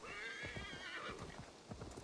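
Hooves of a horse in the video game Assassin's Creed Valhalla clop in a quick uneven rhythm over rough ground as it climbs a hill, with a brief whinny-like tone over the steps.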